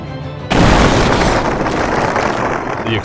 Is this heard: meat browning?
no